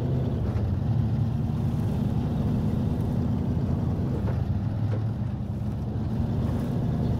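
Low droning engine of an International Fleetstar truck in Snowrunner, a steady rumbling hum with a broad hiss of air or wind over it, constant and unbroken with no speech.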